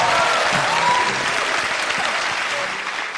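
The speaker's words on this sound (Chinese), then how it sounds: "来，大家给主持人热烈的掌声。" A TV studio audience on a job-seeking show gives the stand-in host a warm round of applause. The clapping stays loud and steady throughout, then eases slightly at the end, with faint voices underneath.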